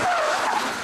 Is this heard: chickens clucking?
no